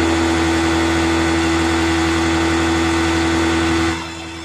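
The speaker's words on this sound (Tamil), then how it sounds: "இப்போ வந்து ஸ்டார்ட் பண்ணி கண்டினியூவாக ரேஸ் பண்ணோம்னா நமக்கு வந்து கோடு வந்து வரும்." A Yamaha R15 V1 motorcycle with a misfiring engine and error code 55 runs at a steady, close, droning idle. Near the end it drops abruptly to a quieter level.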